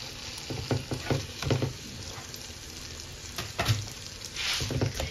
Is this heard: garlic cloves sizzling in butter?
yes